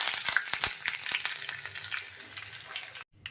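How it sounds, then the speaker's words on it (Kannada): Curry leaves crackle and sizzle as they hit hot oil for a tempering, a loud close burst of spitting pops that gradually settles into a steadier fry before cutting off, with no talk. "ಕರಿಬೇವಿನ ಸೊಪ್ಪು ಹಾಕ್ಕೊಳ್ಳೋಣ."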